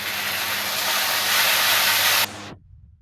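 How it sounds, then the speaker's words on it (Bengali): Tomatoes hitting hot oil with fried ginger and onion give a loud, steady broadband sizzle that cuts off abruptly near the end, leaving a faint low hum. "এবার আমি টমেটোটা দিয়ে দিলাম।"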